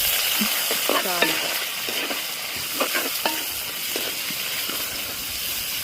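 Onions, green chillies and curry leaves fry in a pan for tomato rice, giving a steady broadband sizzle with occasional light stirring clicks and faint clatter in the background.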